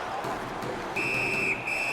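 A referee's whistle sounds at a hockey game, one shrill sustained blast of about half a second, then a shorter second toot, standing out clearly over the arena crowd noise.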